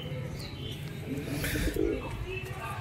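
Rajshahi Giribaz pigeons coo in a low, warbling murmur close by, the soft calls overlapping steadily throughout with a slight swell near the middle and faint chirps above.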